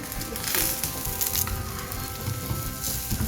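Aloo paratha sizzling and frying on a hot tawa griddle, a steady close crackle of hiss and spatter running throughout with no talking.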